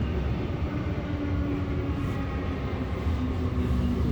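A V-set electric train running at Tuggerah station: a steady, loud, continuous rumble and wheel roar with a faint tonal hum, heard alone with no talking.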